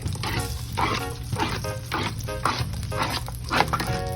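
Corn sizzles in a hot pan for Southern fried corn, a steady crackling fry with rhythmic scraping pulses as it is stirred, close and fairly loud.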